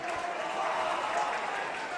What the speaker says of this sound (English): The crowd come to life here, City Mazda Stadium.